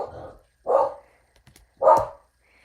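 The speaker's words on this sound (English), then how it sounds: "Please don't mind these ill-mannered dogs." Indoor dogs bark twice in short, loud woofs about a second apart, close by, with a brief faint shuffle between the barks.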